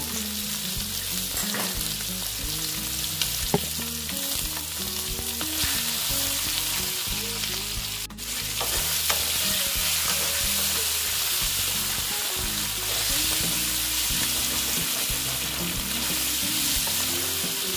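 Potatoes fry with Kashmiri chilli powder in a pan for a vegetarian aloo dum, a loud continuous sizzle with occasional stirring scrapes running throughout, no speech.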